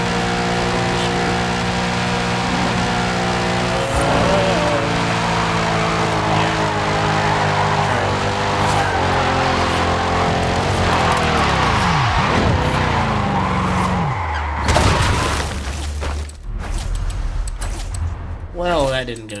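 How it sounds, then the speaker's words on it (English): An all-wheel drive car skids through an attempted 360 spin, a long loud tire squeal and engine roar that sweeps down in pitch and cuts off abruptly, followed by a brief rough noise. "Well, that didn't go too well in a trying to chuck a 360 in an all-wheel drive car."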